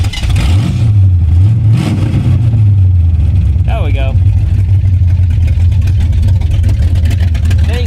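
A car engine with a newly installed Holley carburetor idles loudly and steadily up close after a brief revving surge at the start, with a short squeak partway through and someone speaking over it.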